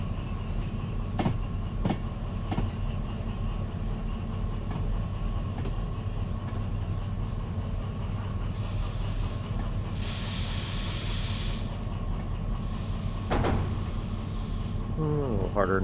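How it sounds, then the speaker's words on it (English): Derail Valley game train rolling steadily along rails, a continuous loud rumble with periodic wheel clacks, a brief hiss of steam or air midway, and a sharp squeal near the end. "this game's about trains"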